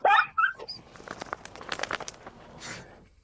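A hyperactive dog gives a couple of sharp, close barks at the start, followed by scuffling, crunching movement and a faint whimper.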